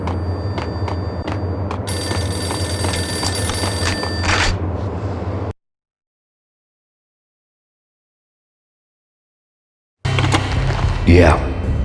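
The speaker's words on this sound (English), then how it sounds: "The payphone started to ring." A payphone rings in Max Payne on PS5, with repeated bell-like tones sounding loudly over a steady background for several seconds, then cutting to silence before other game sounds and voices return.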